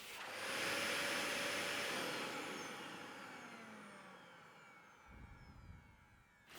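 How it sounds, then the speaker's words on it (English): A Blow Air RS car dryer blasts water off an Audi S5, a loud, steady rush of blown air roaring close by, easing slightly in strength before cutting off near the end. "I could easily blast away the majority of the water using the Blow Air RS car dryer"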